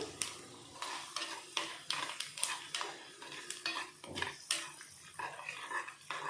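Spices, including cumin and urad dal, sizzle in hot oil while a spoon scrapes and clinks against the pan in quick, irregular strokes, close and fairly quiet.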